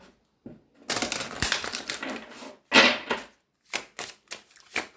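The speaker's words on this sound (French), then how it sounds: "Je vais bien mélanger." Tarot cards are shuffled and riffled by hand in several short bursts, close and fairly quiet, with crisp papery flutters separated by brief pauses.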